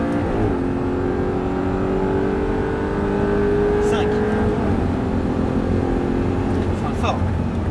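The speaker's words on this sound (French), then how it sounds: "Gaz à fond. Tu montes dans les tours." An Audi R8 on a track accelerates at full throttle, its engine note climbing steadily in revs and loud inside the car, while an instructor keeps talking over it.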